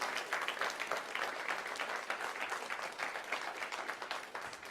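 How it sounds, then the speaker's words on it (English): An audience at a university address applauds for a student, a continuous, fairly distant wash of many hands clapping at an even level. "Ladies and gentlemen, another round of applause for Keita."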